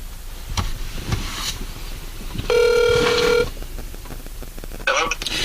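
A phone call being placed from a mobile phone: dialing, then a loud steady ringback tone of about one second, with clicks and faint background noise around it.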